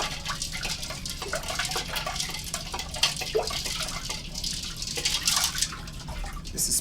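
Rum punch is stirred in a mixing vessel with a steady run of small liquid swishes, drips and clinks, close by and moderately quiet, with no talking over it.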